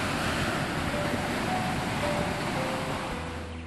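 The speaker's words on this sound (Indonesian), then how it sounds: "Deburan ombak menjadi kekasan panorama pantai di pesisir selatan Bali." Waves break on a beach on Bali's south coast in a dense, continuous roar of surf that eases slightly toward the end.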